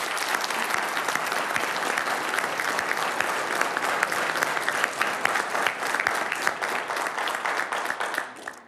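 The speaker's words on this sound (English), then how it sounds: "Those who believe it's to increase revenue, please applaud." Town hall audience on privacy and security clapping to vote that red light cameras raise revenue, a loud sustained crowd-wide patter holding evenly for about eight seconds before dying away abruptly.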